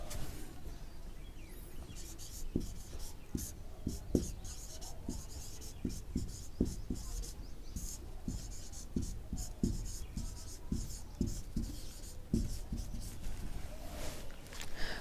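Writing on a board during an English grammar lesson: steady scratchy strokes with sharp taps, close and continuous for about fifteen seconds over faint room noise.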